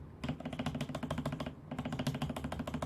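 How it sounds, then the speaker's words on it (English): Rapid, steady typing on a modded Razer mechanical keyboard, close and crisp, two bursts of keystrokes separated by a short pause. "this keyboard sounds really good for being a modded Razer keyboard"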